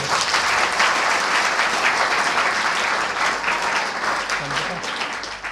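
Children clap loudly together at an Arya Samaj religious gathering, producing a dense, continuous round of applause that holds steady and eases slightly near the end.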